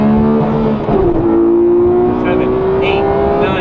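Porsche 981 Cayman GT4 engine at high speed, running up through gears with steady loud droning tone and rising pitch, a brief dip at a gear change, under continuous road and wind noise.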